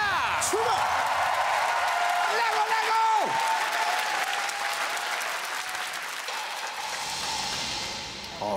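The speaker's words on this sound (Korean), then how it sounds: "세 번째 수상한 가수 본드 씨 무대 큰 박수와 함께 시작합니다" Audience applause at a Korean TV singing show as a mystery singer's stage begins, a dense wash of clapping with cheers and a host's voice over it, followed by swelling music.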